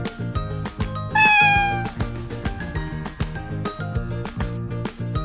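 A stray cat meows once, drawn out and clear, over a steady, bouncy musical backing with a regular beat.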